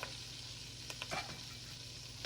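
Thyme and garlic fry beside lamb chops in a hot pan, giving a soft steady sizzle with a few sharp faint pops scattered through it.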